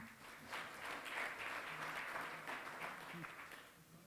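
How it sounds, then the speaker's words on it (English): An audience at an Indian Council of Arbitration event on Indo-UK commercial disputes applauds an incoming speaker, a fairly faint, steady spread of clapping with a low voice murmuring beneath it. "a big round of applause"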